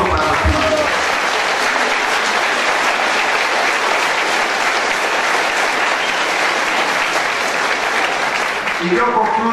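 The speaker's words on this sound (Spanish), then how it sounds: "un aplauso para ti" Loud, sustained applause from a large crowd at an outdoor political event in Álamo, filling nearly ten seconds with dense, steady clapping and a little cheering mixed in.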